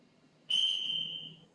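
A single sharp whistle blast sounds during an exercise class, clear and fairly close, held for about a second before fading.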